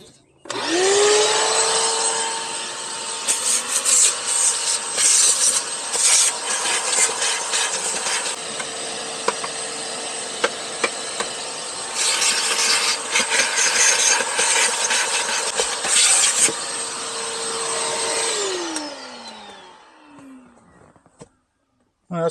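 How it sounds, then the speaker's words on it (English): Vacuum cleaner sucking debris out of the jump seat compartment of a Chevy truck, a loud steady whine with rattling bursts as the nozzle pulls up grit, then winding down at the end. "And vacuum this out."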